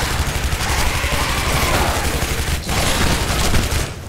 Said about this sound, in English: Everything just explodes.